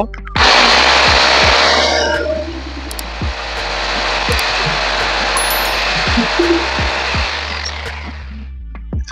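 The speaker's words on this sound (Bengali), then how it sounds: "আমরা এখন ড্রিল মেশিন দিয়ে ডিল করে নেব" An electric drill machine bores a hole for fitting a metal window grill at a school, whining loudly and continuously for several seconds before slowly winding down.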